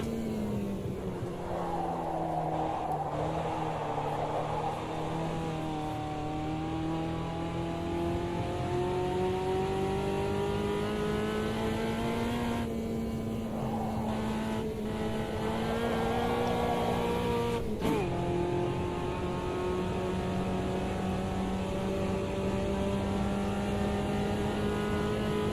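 A racing video game car's engine drones steadily and loudly throughout, its pitch rising and falling with gear changes and revving, with occasional brief tire noise.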